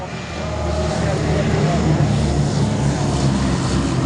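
Droning piston engines of a B-17 Flying Fortress bomber making a slow, low flyby at a WWII airshow, a loud continuous roar that swells slightly and fills the whole clip.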